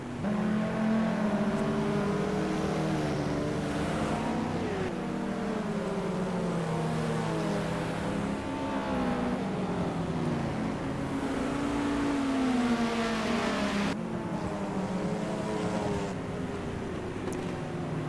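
GT race car engines drone and rise through gear changes during a warm-up lap in a sim racing game, several cars blending into a steady, moderately loud hum that shifts pitch over time.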